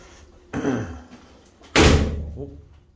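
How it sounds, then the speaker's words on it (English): A steel side door on a concrete sectional garage is pulled shut twice, a softer thud followed by a louder heavy metallic slam with a short ringing tail. "Steel side door."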